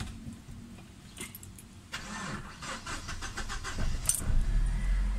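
A Chevrolet Optra with a blacked-out gauge panel starts close up after a brief key jingle, cranking and then catching into a steady idle that rises slightly in loudness.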